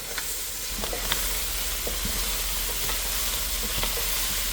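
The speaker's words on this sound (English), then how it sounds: "Then just give this a good mix." Diced bell pepper, seeded jalapeño and onion hiss and sizzle steadily in a hot pan. A spoon scrapes and taps through the mix now and then, loud and close, with no voices.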